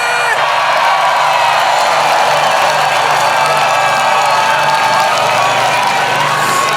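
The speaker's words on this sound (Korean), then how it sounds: "뜨거운 박수 한 번 더 부탁드립니다." Loud crowd applause mixed with cheering, whoops and shouts at a Daejeon presidential campaign rally, a continuous roar sustained throughout at close range.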